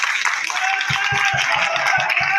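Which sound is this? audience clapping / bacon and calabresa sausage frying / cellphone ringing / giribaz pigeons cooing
audience clapping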